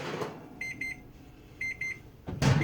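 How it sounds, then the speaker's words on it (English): A kitchen timer goes off while apple bread bakes in an oven, giving two quick bursts of three sharp electronic beeps each, fairly quiet over a low room hum. "Get this timer off."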